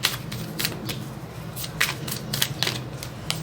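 Tarot cards being shuffled and drawn during a Thai tarot reading, a series of soft, crisp card snaps and rustles in an uneven rhythm, close and fairly quiet, with no talk.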